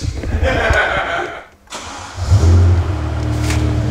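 A car engine with its exhaust valve open starts up, dips briefly, then revs loudly and settles into a deep, rumbling idle, close by with no talking.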